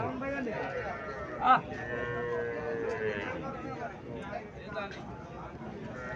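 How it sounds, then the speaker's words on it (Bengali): A Sahiwal cow moos once, briefly and loudly, amid a steady murmur of people talking and farmyard background noise. "এখানে একটা সাইওয়াল জাতের গাবি দেখা যাচ্ছে।"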